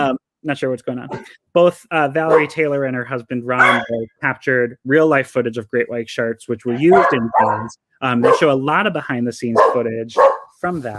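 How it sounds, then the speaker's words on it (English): Dogs bark intermittently in the background, short sharp yaps breaking through a man's steady, continuous talking, which dominates throughout. "sorry about the dogs."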